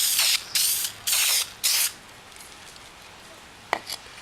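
Four short bursts of spray paint hissing from a can onto a two-piece wheel's center cap in quick succession, then quiet with a brief clicking near the end.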